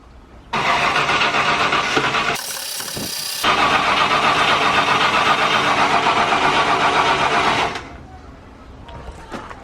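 A car engine in an old Land Rover Discovery, run with the fuel pump relay pulled to depressurize the fuel system: it cranks, catches and runs loudly and steadily, with a short dip after a couple of seconds, then dies out.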